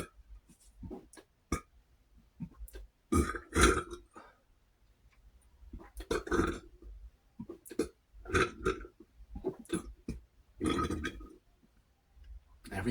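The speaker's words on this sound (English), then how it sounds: "It's interesting to hear me do soda burps" Burps after drinking Sam's Cola, a series of loud, close bursts spread across the stretch with short quiet gaps, some longer and rumbling, others quick and clipped, with no talking.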